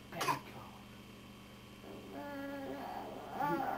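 One sharp cough near the start, with quieter voiced sounds and indoor background following and a short vocal burst at the end.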